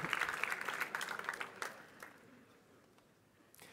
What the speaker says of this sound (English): So let's have a warm round of applause for Javier Santaolalla.